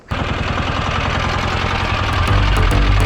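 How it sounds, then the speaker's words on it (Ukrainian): The air-cooled 186 diesel engine of a Kentavr 4x4 mini tractor starts up and runs with a loud, steady, rapid knocking chug that grows slightly heavier near the end, heard close by with no talking. "Дизельний двигун повітряного охолодження 186."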